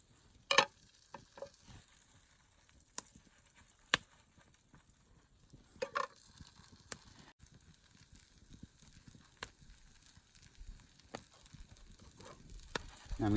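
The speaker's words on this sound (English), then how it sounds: "I'm going to cook my bacon last today" Thick sliced bacon frying in a pan, a quiet steady sizzle with occasional sharp pops and light scraping clicks scattered throughout, no talking.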